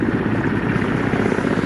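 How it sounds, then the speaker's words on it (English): A military helicopter hovers over a rooftop during a commando rope descent exercise, its rotor and engine producing a loud, steady, close droning thrum throughout. "The helicopter comes to hover over the roof."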